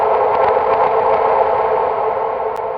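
A hazy, echoing Serum 2 synth atmospheric texture hums steadily with soft flickering transients, evenly sustained and slightly fading toward the end.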